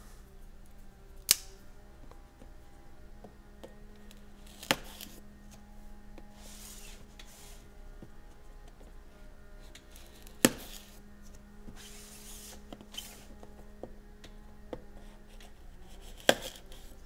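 Knife slicing through the tape on a board game box, faint scratchy cuts with a few sharp clicks and taps spaced several seconds apart against a quiet room hum.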